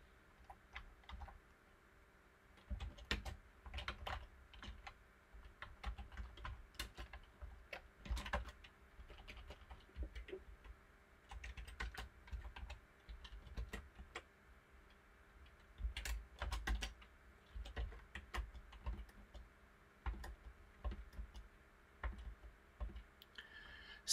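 Keys clack on a computer keyboard in uneven bursts while a URL is cut and pasted, nearby clicks and taps coming in clusters with short pauses, quiet and close throughout.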